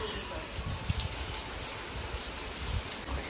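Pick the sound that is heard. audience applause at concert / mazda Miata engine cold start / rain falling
rain falling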